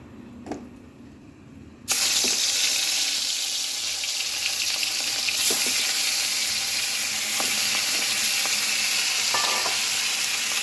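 Salted, turmeric-coated bhetki fish pieces hit hot oil in a wok, and a sudden loud sizzle starts after a quiet moment and holds steady and close, with faint occasional clinks.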